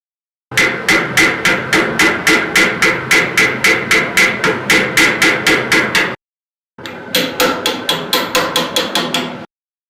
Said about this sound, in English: I'm going to hammer this material down